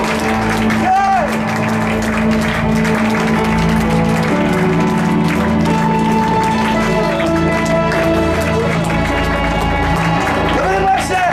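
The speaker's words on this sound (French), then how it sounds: "Seigneur des Seigneurs, applaudissez-le, c'est le Tout-Puissant." A church congregation claps along in a steady wash of applause, with music and voices running underneath throughout.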